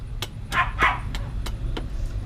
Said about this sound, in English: Sorry, my dogs are playing in the background. You can hear them.